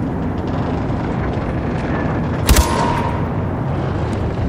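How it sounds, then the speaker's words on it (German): A single sharp gunshot rings out midway through a Far Cry 4 gameplay scene, loud and abrupt against a steady ambient rumble, with a brief tail afterward. "einen Schuss wollte ich abgeben."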